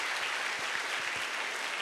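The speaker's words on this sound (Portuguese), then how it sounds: "Vamos aplaudir o Senhor Jesus." Congregation applauding at an evangelistic crusade, a steady wash of many hands clapping with no voices over it.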